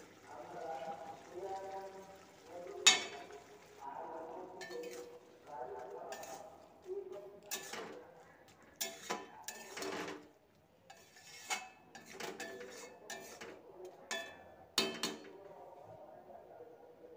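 A utensil scrapes and clinks against a pan while a curry of small crabs and Malabar spinach greens is mixed, giving sharp metallic knocks spread irregularly over a quiet background with a voice speaking faintly.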